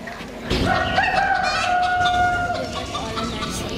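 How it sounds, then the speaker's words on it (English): A rooster crows loudly once in a long, drawn-out cock-a-doodle-doo with a rising then sustained tone, heard over steady background noise at a school annual day performance. "But it's just a rooster."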